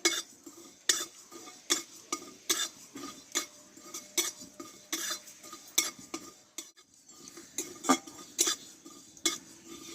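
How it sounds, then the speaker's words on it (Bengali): Cumin seeds dry-roasting in a pan over low heat, stirred with a utensil that clicks and scrapes against the metal in a steady irregular rhythm, close and fairly quiet with no speech. "দেখো জিরেটা কিন্তু ভাজা হয়ে গেছে এবার নামিয়ে নেব"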